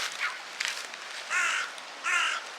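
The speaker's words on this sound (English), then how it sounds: "there are literally birds everywhere" Crows caw outdoors near a Cornish pasty bakery, several harsh raspy calls, two longer and louder ones standing out toward the end, fairly close and with no talking.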